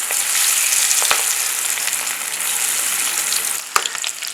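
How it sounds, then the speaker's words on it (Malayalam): Beef for a Kerala-style dry fry sizzles in oil over a low flame, a continuous close hiss broken by a couple of sharp stirring knocks near the end. "നമുക്കൊരു ലോ ഫ്ലെയിമിൽ ഇത് വറുത്തെടുത്താൽ മതി, അല്ലെങ്കിൽ കരിഞ്ഞിരിക്കും"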